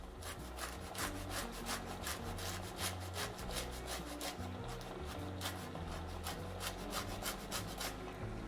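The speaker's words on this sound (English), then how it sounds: "I'm gonna put some of my orange zest" Orange zest being grated in steady, rhythmic rasping strokes, a close scraping repeated through the whole stretch with no talk over it.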